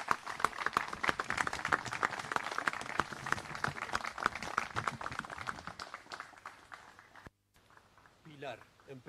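Audience applause at an academy of sciences ceremony, dense clapping that holds steady for several seconds, then thins and fades out.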